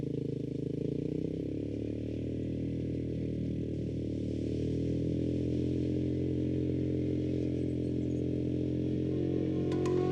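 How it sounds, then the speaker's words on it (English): A small four-wheeler bike engine drones steadily at a constant pitch throughout while towing a boat across a boggy clay pan, near and continuous, with a faint rise near the end and no talking. "The lighter four-wheeler bike tows the boat across the boggy clay pan."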